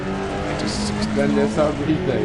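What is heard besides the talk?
rally car engine in the video game DiRT Rally 2.0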